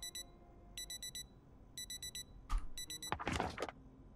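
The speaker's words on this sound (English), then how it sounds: "Stop the alarm." Alarm clock ringing in the zombie survival game Project Zomboid, four short bursts of rapid high electronic beeps with gaps between, followed by a louder rustling clatter near the end.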